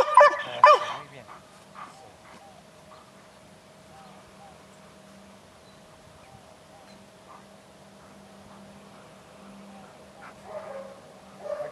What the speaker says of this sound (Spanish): Ladra. Ladra. Ladra.